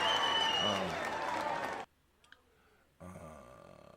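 A burst of clapping and crowd noise, cut off abruptly into near silence, then resuming after a second or so.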